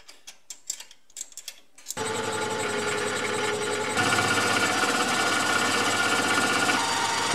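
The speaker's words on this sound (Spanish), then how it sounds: "Para ello utilizaré un torno y una broca de 20 milímetros." A lathe bores a 20 mm hole into a solid copper bar, starting with a few sharp clicks, then a loud, steady mechanical whir and grinding cut that continues, slightly louder after a few seconds.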